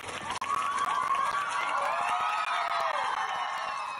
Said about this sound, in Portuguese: Esse professor aí mereceu até aplausos, literalmente, dos alunos, porque ele chegou na aposentadoria